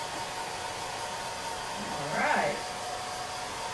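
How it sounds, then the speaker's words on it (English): A hair dryer, used as a heat gun for chalk-stencil farmhouse decor crafting, runs with a constant airy whoosh throughout, while a person briefly speaks over it. "Not when my hair dryer can do the same thing."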